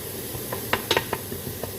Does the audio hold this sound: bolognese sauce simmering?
yes